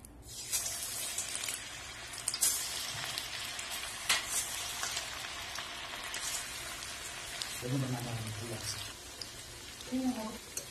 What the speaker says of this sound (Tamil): இது ஒரு சைடு ஃப்ரை ஆனதும் நம்ம அடுத்த சைட் ஆன் பண்ணி போடலாம்